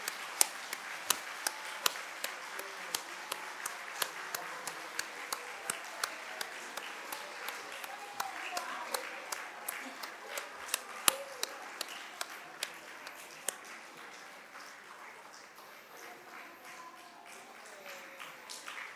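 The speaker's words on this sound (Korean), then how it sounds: "준비 못하신 분은 큰 박수로 축하해 주시기 바랍니다" Sustained applause from a church congregation at a Sunday worship service, broad clapping filling the room with sharper individual claps standing out, steady throughout and easing slightly toward the end.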